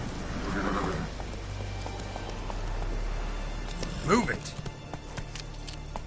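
Roach the horse galloping in The Witcher 3, a steady run of hoofbeats clip-clopping close by with a brief whinny partway through, under a man's spoken command.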